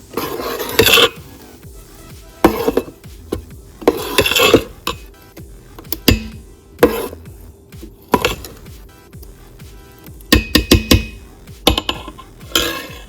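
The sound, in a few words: stirring rice and methi idli dosa batter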